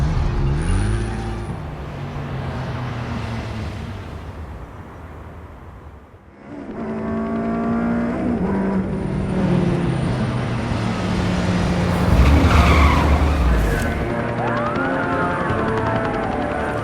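A car in the Batman Telltale game (The Enemy Within) drives and skids: a revving engine rises and falls in pitch, then a louder roaring passage with a brief high squeal, continuous and close with no talking.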